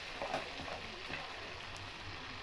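Rava vadai frying in hot oil gives a steady, faint crackling sizzle that runs without a break, with soft bubbling pops scattered through it.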